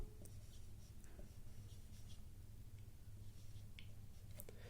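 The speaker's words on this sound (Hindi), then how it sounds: "मैं लिख देता हूं" Pen writing on paper during an English grammar lesson, faint scratchy strokes and small taps close by over a low background hum, no talking.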